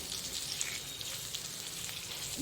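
Nuts frying in ghee for healthy nut laddoos give a soft, steady sizzle with fine crackle, continuous and fairly quiet throughout, with no voices.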